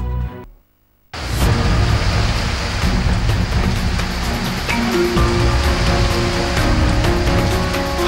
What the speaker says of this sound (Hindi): लगातार हो रही बारिश अब आफत में तब्दील हो रही है।